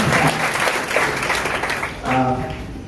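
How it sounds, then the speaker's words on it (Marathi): Warm, fairly loud applause fills a hall at an autumn public lecture series, steady for about two seconds before a voice begins speaking as the clapping fades. "टाळ्या सर."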